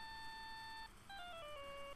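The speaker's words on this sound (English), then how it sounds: "All of a sudden, the phone began to ring." A cell phone rings in Phoenix Wright: Ace Attorney – Justice for All, a quiet electronic tone held steady, then a short gap, then a descending run of beeping notes, with no voices.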